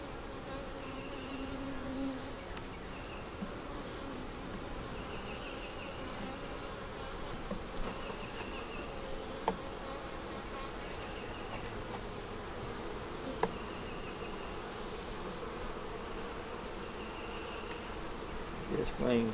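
Honey bees buzz around an open hive during an inspection, a dense, continuous droning hum of many insects at close range, with faint clicks and handling knocks scattered through it and no talking.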